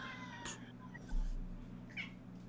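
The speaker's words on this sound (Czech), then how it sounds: "Kočička. Pojď sem ty." Cat meowing indoors, a couple of short mews over steady low background hum, moderately close but soft.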